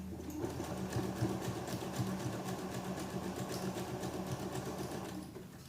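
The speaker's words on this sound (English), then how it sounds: "I've got it at number 10, my zigzag stitch, butted up that fabric to that little knobbly bit, needle down, and away we go" A domestic sewing machine runs a zigzag stitch on fabric for a little girl's dress, a steady, close rapid mechanical whirring and clatter that slows and stops near the end, with no voices.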